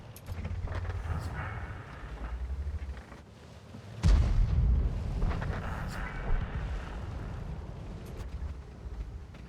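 Artillery shells landing in a World of Tanks battle, a heavy booming impact with rumbling aftermath over a running tank engine, a voice talking briefly.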